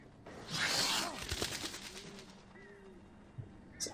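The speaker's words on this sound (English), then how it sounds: "It's a horrible sounding bird." A creepy bird call from the Alan Wake video game, a few short warbling cries rising and falling over a dark ambient bed, with a brief louder rushing burst near the start and faint game sounds around it.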